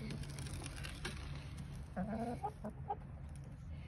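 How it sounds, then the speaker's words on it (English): A broody hen gives a few soft, low clucks and throaty murmurs over a steady background hum, close by. "That is my other broody hen."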